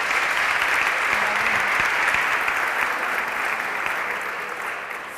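A hackathon audience applauds steadily and warmly for about five seconds, a dense, even wash of clapping that slowly tapers off.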